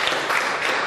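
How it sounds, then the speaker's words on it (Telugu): An audience on a Telugu television game show claps, a dense, steady patter of many hands throughout the short moment with no pauses. "ఒకసారి అందరు క్లాప్స్."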